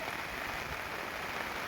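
Steady, even hiss of heavy rain falling on a rural village field, constant and close with no voices.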